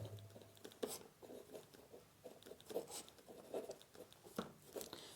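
A pen writing out a class 10 maths proof on paper, giving a soft, faint scratching of short strokes and brief pauses, close by with no talking.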